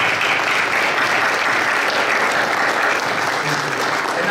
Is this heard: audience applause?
yes